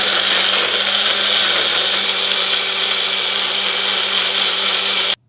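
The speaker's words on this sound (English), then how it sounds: "I'm going to do the blending now. I'll blend everything together." An electric blender whirs at a loud, constant high-pitched drone as it purees carrot, garlic, ginger and pepper, then cuts off abruptly at the end.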